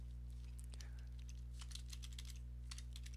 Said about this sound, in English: That sound of the typing right now is me messaging him